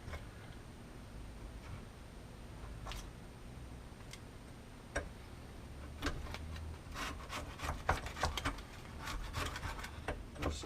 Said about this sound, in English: we're going to get this old gasket off here.